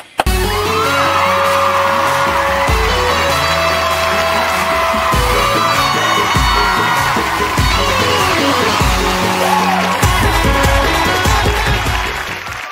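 A crowd claps and cheers loudly to welcome a performer and his team onto a stage, with continuous applause, whoops and yells and sharp bangs throughout, fading slightly at the end.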